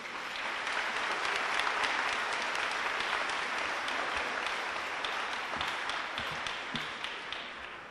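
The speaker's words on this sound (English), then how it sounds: "Give this group a round of applause." Sustained audience applause at a high school academic awards banquet, steady dense clapping filling the room from start to finish with no talk over it.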